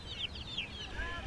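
Chickens cluck on a rural farm in Vietnam, with a few short, high clucks in quick succession over a low background rumble, and no voices.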